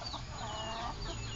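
Skittish chickens, including a rare frizzle-feathered bird, cluck in a steady low murmur with faint higher calls, close and continuous, with no speech.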